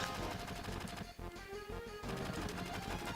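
Rapid bursts of gunfire from Final Fantasy VII crackle over a dense, noisy mix of music and effects, continuous and busy throughout.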